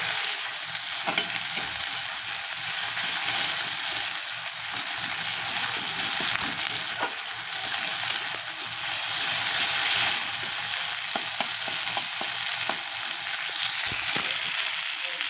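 A pan of duck egg bhapa preparation fries lightly, giving a steady soft sizzle with occasional small crackles and stirring clicks, continuous and close, with no talking.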